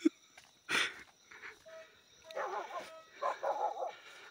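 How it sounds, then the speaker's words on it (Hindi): A dog on a hillside orchard farm barks a few times, with short sharp yelps and whimpering calls spread across several seconds at moderate distance, no talk over it. "कुत्ता पहले भौंकने लगता है,"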